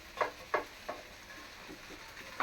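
Vegetables and ginger-garlic paste fry quietly in ghee under a faint sizzle, with a few soft, evenly spaced stirring scrapes against the pot.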